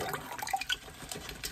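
Lye water solution being poured for soap making in a home studio, a soft, brief trickle of liquid with faint splashing, close and quiet, with no talking.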